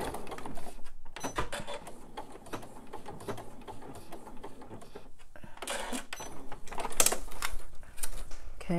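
A sewing machine stitches a purse seam, running forward and then in reverse to secure the stitch, in short irregular bursts of rapid mechanical clatter with brief pauses between them.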